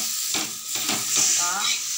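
Black masala roasting with onion in a pan, Marathwada village style, with a continuous close sizzle and rhythmic stirring scrapes from a spoon; no talk.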